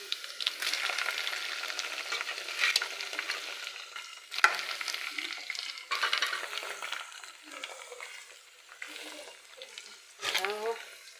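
Beans frying with onion in a pan give a steady close sizzle with intermittent stirring scrapes, and a brief louder clatter near the end.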